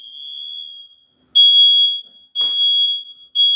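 Several smoke alarms in a home go off with a piercing high electronic beep, sounding in long repeated bursts that are loud and close, with no voices over them.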